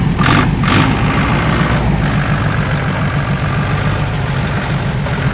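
A Kubota L1-33 tractor, a 33-horsepower four-wheel-drive machine with a four-cylinder engine, runs steadily during a loader bucket demonstration, its diesel rumble continuous and close with no speech.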